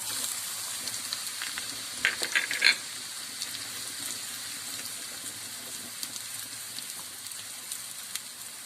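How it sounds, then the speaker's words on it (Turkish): Soft, steady sizzling of chopped onion sautéing in hot oil in a pan, with a few brief crackles and pops near the start, no voices. "Şimdi doğramış olduğum bir adet soğanımı da ekleyip pembeleşinceye kadar kavuracağım"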